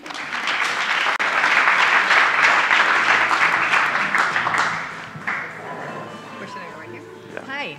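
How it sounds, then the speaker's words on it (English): Audience applause for a presenter at a marketing data startup event, loud and sustained for about five seconds, then fading into scattered claps and room noise. "Please give Alice a round of applause."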